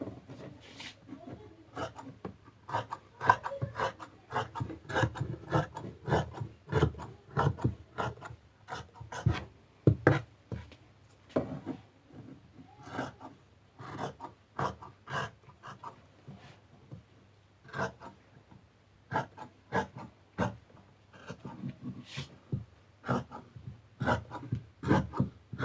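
Scissors cutting fabric for the hood of a Moroccan djellaba, giving a series of crisp, rhythmic snips and rasping fabric sounds, close and clear with no talking.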